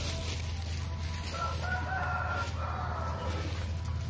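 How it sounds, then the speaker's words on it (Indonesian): A rooster crows and hens cluck in the morning at a home where breakfast is being cooked, steady outdoor background hum beneath, the calls moderately distant and overlapping through the few seconds. "Ini apa yo? Burung."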